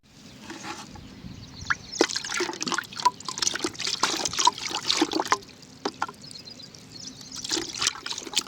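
Liquid blue copper fungicide is stirred and poured in a bucket for a chilli crop field, giving close, irregular watery splashes and trickles that come and go throughout.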